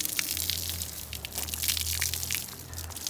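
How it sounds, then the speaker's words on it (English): Water splashes and pours steadily onto avocado tree leaves and into the pot below, a continuous close rustling gush with a low steady hum underneath throughout. "take the water, just pour it on the leaves."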